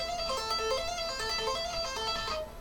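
Electric guitar tapping licks with the tapping hand sliding between notes, a quick run of bright sustained melodic notes played alone at moderate loudness.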